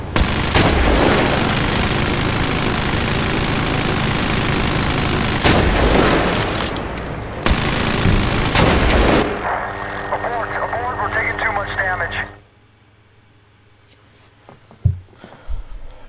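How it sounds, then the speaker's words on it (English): Dense gunfire and explosive blasts from Medal of Honor Warfighter combat fill the first twelve seconds, loud and continuous with heavy booms, then drop to quieter ambience with scattered hits; voices talk over parts of it. "Shit, we're taking fire."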